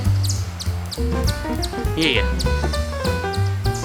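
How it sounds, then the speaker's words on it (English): Birds chirp outdoors in quick, bright repeated tweets and calls scattered throughout, fairly close, over a low steady hum, with a man's brief spoken word in the middle. "Listen to them birds. You hear them birds?"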